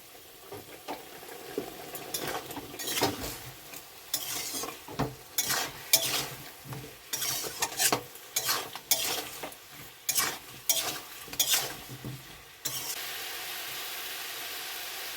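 Fish curry masala with turmeric and a little sugar being stir-fried, with repeated irregular scraping and clattering of a spoon against the pan over a soft sizzle, close and uneven, then a steadier hiss at the end.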